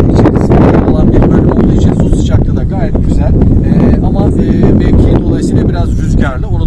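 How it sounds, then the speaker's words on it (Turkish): Strong wind buffets the microphone with loud, continuous rumbling gusts at a hot spring in Sivas, Turkey, while a voice speaks underneath. "Rüzgarın bu şekilde olması da normal diyoruz."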